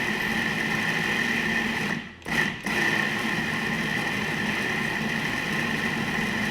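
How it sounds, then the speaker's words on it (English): Blender running steadily while blending hummus, a continuous loud whirring motor hum with a brief dip and restart near the middle, then an unbroken drone to the end. "So you just blend it up till the consistency that you want"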